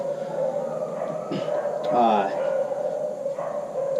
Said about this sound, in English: Those are not our dogs, by the way. You can hear them. Yeah, those are the neighbor's dogs.